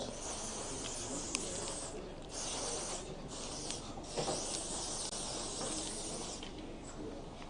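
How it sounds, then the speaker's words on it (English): Hair shine spray hisses faintly and continuously at a barber training session, with several short breaks between bursts of spraying and soft handling noises close by. "This is just shine spray, yeah?"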